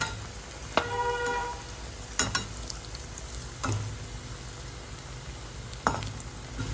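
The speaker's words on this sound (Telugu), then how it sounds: "వీటిని కూడా కొంచెం కొంచెంగా దోరగా అయితే వీటిని బ్రౌన్ కలర్ వచ్చేంత వరకు వేయించుకోవాలి" Bread slices fry in a pan until browned for double ka meetha, with a steady sizzle and crackle and a few sharp stirring clacks of a spoon against the pan.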